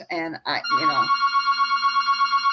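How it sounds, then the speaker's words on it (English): A telephone rings with a steady pulsing electronic tone that repeats about a dozen times, loud and close, starting just after a person finishes speaking. "I'm sorry, that's my phone."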